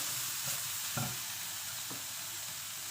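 Meat frying in its own rendered fat without oil for pinakbet, a soft, steady sizzle with a couple of faint utensil scrapes, no talking.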